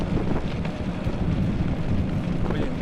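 Strong wind roars steadily across the microphone while a cyclist rides fast downhill on a tent-touring trip through Tatarstan, a loud, constant rumbling buffet with no break.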